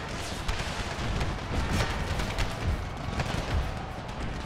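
Cannon and howitzer fire rumbles through a battle in the strategy game Empire: Total War, with a dense, continuous wash of booms and volleys rolling at a distance and no clear talk.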